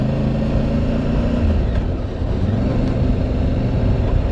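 A Voge 625DSX motorcycle rides off-road over loose gravel, its engine a steady loud drone with low rumble and wind throughout, without any voices.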